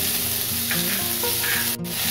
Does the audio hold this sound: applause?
no